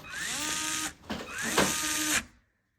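A Fanntik electric screwdriver drives a screw into a hardwood board while fixing a loose kitchen cabinet handle, a close whirring motor whine running about a second, a brief pause, then another longer whir ending abruptly.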